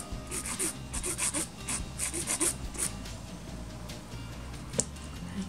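A nail file rasping across a gel fingernail up close, quick rhythmic strokes in short bursts, then a pause and one sharper scrape, soft and scratchy against a quiet room.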